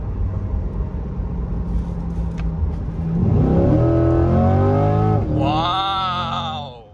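A Chevrolet Corvette C8 accelerates hard, its engine swelling from a low rumble into a loud rising roar with a climbing pitch that shifts once before fading.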